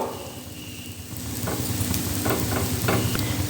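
A dosa batter made with moong dal and black urad cooks on a pan over medium heat, giving a steady, close frying sizzle with a few light taps of a utensil.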